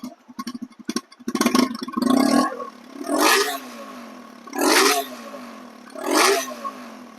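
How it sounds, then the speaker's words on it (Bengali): A TVS RTR 160 2V motorcycle in showroom condition: some brief clattering, then three sharp throttle blips that rise and fall at even intervals, close and loud. "ইঞ্জিন শোরুম কন্ডিশন সাউন্ড দেখেন"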